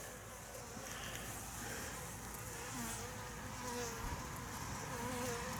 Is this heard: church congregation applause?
no